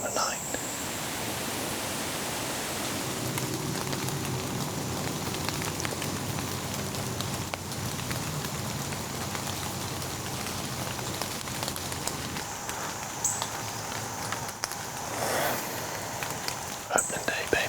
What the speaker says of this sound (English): that little bit of rain turned out to be a whole lot of rain